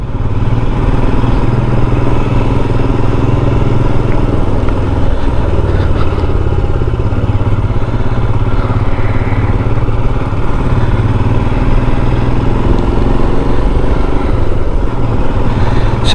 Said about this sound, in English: it's just a nice noise. It's not loud, it's not offensive, but it just sounds nice, you know, that single cylinder thumper